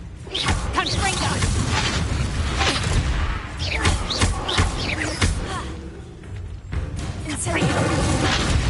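A Confringo fire spell from the Hogwarts Legacy video game bursts with whooshing, thudding blasts amid a dense, loud mix of combat effects, with a voice talking over it.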